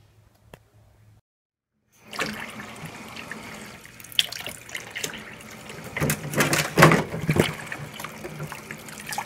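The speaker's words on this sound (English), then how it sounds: "Done washing, I'm just rinsing everything." After a near-silent start, a kitchen tap runs steadily into a sink while canning jars and utensils are rinsed, with splashing and the clink of glass and metal getting busier and louder toward the end.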